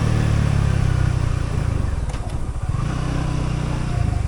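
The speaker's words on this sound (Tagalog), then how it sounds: "O mas madalas maraming mga motor at dumadaan dito." Motorcycles and cars pass along a winding mountain road, with engines loud and close, a steady drone that dips briefly in the middle and then builds again as the next vehicle goes by.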